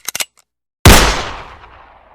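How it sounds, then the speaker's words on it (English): A single loud revolver shot, a sharp close crack with a long decaying echo, following a few brief clicks. "Nothing like shooting the old revolver to get all that pesky stress out of my system."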